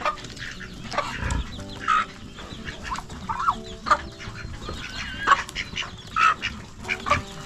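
Turkeys gobble and chickens cluck in short, repeated bursts, several birds calling close by over a low outdoor background.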